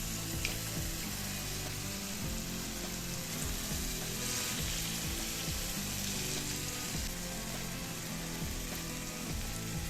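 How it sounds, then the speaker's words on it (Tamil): Small balls of sweet batter for paal paniyaram fry in hot oil with a constant, fairly loud bubbling sizzle, a continuous low mechanical hum running beneath it throughout. "சூடான எண்ணெயில் கொஞ்சம் கொஞ்சமாக சின்ன சின்னதாக போண்டாவாக போட வேண்டியது"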